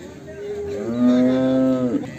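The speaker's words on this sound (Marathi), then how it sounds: "ही गाय बघू शकता तुम्ही. ही पहिलारू गाय आहे." A first-calf cow at a cattle market in Baramati gives a single long, loud, close moo that swells for about a second before dropping away, with faint market noise around it.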